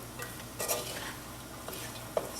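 Tofu scramble with vegetables being stirred in a pan: quiet, soft scraping strokes with a couple of sharper utensil taps over a low, steady background.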